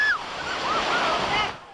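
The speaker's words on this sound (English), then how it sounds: "Today's tides were rebuffed by the seawalls but they still thrilled" Storm tide surf surging against seawalls at Gloucester and Quincy, Massachusetts, heard as a loud, continuous broadband wash of crashing water with wind, swelling steadily for about a second and a half before cutting off abruptly.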